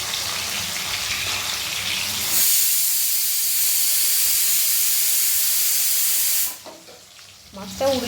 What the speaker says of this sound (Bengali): মাছটা ওদিকে ভাজা হচ্ছে